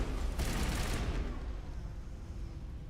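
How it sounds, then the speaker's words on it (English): Repeated gunfire from the Mass Effect video game, a dense burst of shots early on that thins into a rumbling, echoing tail, loud and continuous with no talk over it. "Just taking pot shots at him for fun."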